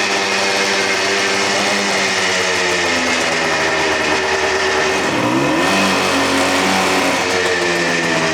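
A motorcycle engine kick-started after two kicks and put through a burnout test, revving loudly and steadily near the listener with a brief dip in pitch midway, no voices over it.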